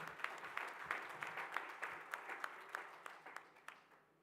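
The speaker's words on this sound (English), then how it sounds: "Please give her a round of applause" Applause from a conference audience of women birders, a few distinct claps forming a brief, thin round that tapers off and fades out near the end.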